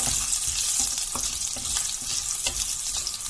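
Large whole garlic cloves frying in hot oil for a village-style chicken curry: a dense, continuous close sizzle with faint crackles and stirring scrapes throughout.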